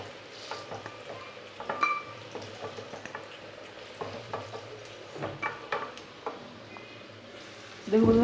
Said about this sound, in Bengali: দেখুন বন্ধুরা, কাঁকরোল ভাজা হয়ে গেছে